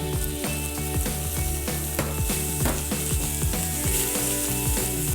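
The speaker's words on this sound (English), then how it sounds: "next we're going to add in 8 ounces of ground beef" Eight ounces of ground beef frying in a pan, a constant bright sizzle with rhythmic metallic scraping and clicking from stirring, close and busy throughout.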